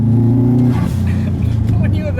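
A 2004 Subaru WRX STi with a loud aftermarket exhaust idles and revs up close, a deep throbbing engine note rising and settling, with someone talking over it.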